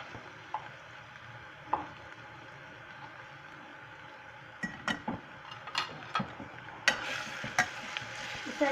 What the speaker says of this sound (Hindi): प्याज का कलर थोड़ा सा चेंज हो गया है, अब हम इसमें कीमा ऐड करते हैं।